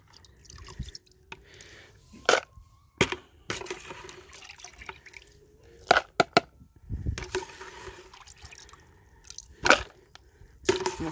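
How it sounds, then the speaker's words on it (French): Water splashing and dripping as chicken feed bowls are rinsed, with scattered sharp splashes and clatters at irregular intervals over a quiet background. "je vais devoir rincer les gamelles un peu là"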